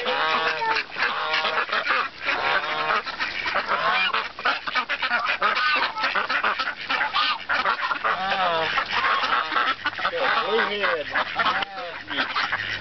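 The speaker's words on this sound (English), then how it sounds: "Look at that one black duck with the blue on him." A flock of ducks and geese being fed bread honks and quacks nonstop at close range, the calls dense and overlapping throughout, with some voices faintly underneath.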